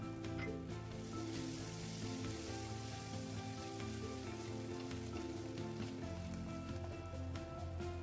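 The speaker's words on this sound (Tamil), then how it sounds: "இப்போ நம்ம கட் பண்ணி வச்சுருக்கிற கொத்தமல்லி, புதினாவை இது கூட சேர்த்து நம்ம ஃப்ரை பண்ணிக்கலாம்." Chopped coriander and mint frying with ginger garlic paste over a medium flame, a constant soft sizzle and crackle that carries on evenly with no voices.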